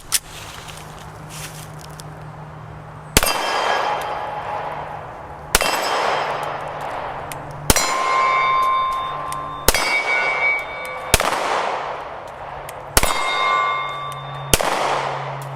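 A pawn-shop SIG P320 X-Carry pistol fired at steel targets, seven shots spaced about two seconds apart, each a sharp crack followed by a bright ringing clang from the plate that slowly fades.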